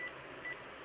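Two short electronic keypad beeps from a Panasonic KX-TG3711SX single-line digital cordless phone, one at the very start and another about half a second later, both close and clear over faint background hiss.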